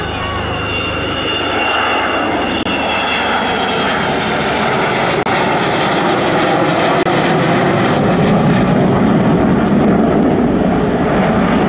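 An aeroplane engine roars past at the 2009 Cosford air show, a loud, continuous, broad roar that swells gradually and holds steady throughout.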